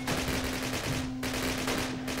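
Sustained machine gun fire in the Call of Duty video game, a loud, dense, continuous rattle of rapid shots filling the whole moment with no pauses.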